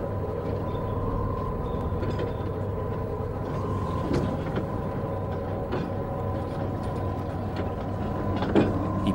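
A train rumbles in steadily with low mechanical noise, scattered clanks and rattles from the cars, and a faint tonal hum throughout.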